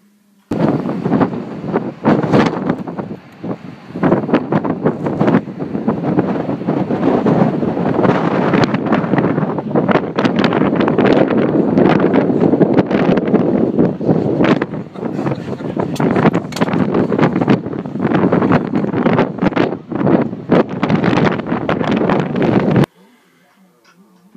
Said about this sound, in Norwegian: Det blåste relativt friskt i Danmark.